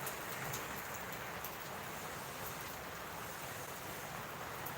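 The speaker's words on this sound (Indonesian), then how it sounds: "Oh, gerimis." Light drizzle falls steadily outdoors, a soft, even hiss of fine raindrops that continues without pause, with no voices.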